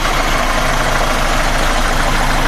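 A cold Chevrolet Monza Hatch SL/E 1985/86 with a 1.8 alcohol engine idles smoothly, a steady, loud, close-up engine drone with no voices.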